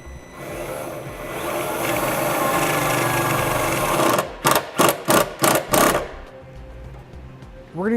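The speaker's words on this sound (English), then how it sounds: "I'm going to take a 5/16 nut driver, and I'm going to secure it directly into the side of the sheet metal here." A 5/16 nut driver spins a self-tapping screw into vehicle sheet metal while a diode wiring kit is installed. It makes a steady, gritty whirring grind for about four seconds, then five short, sharp driving bursts in quick succession.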